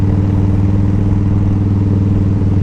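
A motorcycle engine runs loud and close on a curvy Alabama road, a steady throbbing drone with a rhythmic pulse and no clear break in the engine note.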